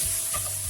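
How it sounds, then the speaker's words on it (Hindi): Chopped onion and three green chillies sauté in a pan over medium heat, giving a steady soft sizzle with a faint stir partway through, brief and close with no voices. "अभी हमें थोड़ा मसाला सॉटे करना है।"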